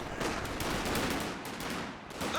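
Sustained machine gun fire from an MG team in Company of Heroes 2, a dense continuous rattle of rapid shots that fills the moment with little pause, heard alone with no talk.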